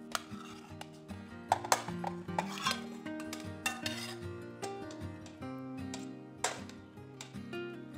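Tofu goes into a simmering pot of pork and salted vegetable soup, with clinking utensil knocks and metallic taps against the pot under a low steady bubbling, close and fairly quiet.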